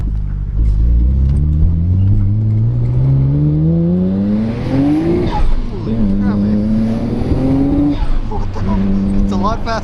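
A Nissan Skyline GTR R32 with a repaired blow-off valve accelerates hard through the gears, its engine note climbing in long sweeps with a gearshift dip, tire squeal as all four wheels spin, loud and close from inside the car, with voices talking over it.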